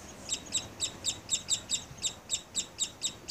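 Downy woodpecker outside a residence in Chilliwack, BC gives a steady series of about a dozen short, sharp calls at a regular rhythm, fairly close and clear above faint background noise.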